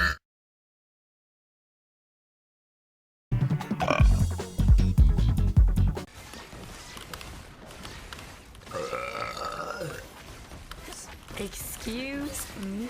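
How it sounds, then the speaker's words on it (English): A girl lets out a loud, gurgling burp after a few seconds of silence, followed by quieter grunting and vocal noises that sound like talking. "You know, sometimes my burps surprise me too."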